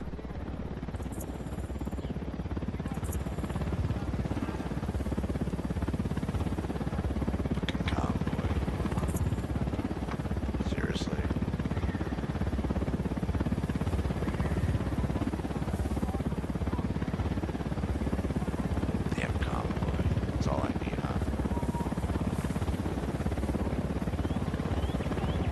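An enemy helicopter in a Ubisoft video game drones as a faint, continuous rotor hum throughout, with a few sharp clicks and distant effects scattered over it.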